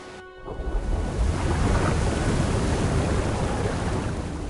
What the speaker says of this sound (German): Jetzt habe ich das Wasser nach oben gelassen.